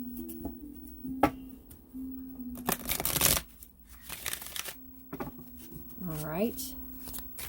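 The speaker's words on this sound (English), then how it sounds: "One more shuffle." Tarot cards being shuffled close up, with crisp riffling bursts and soft slides between them, alongside a few quiet spoken words.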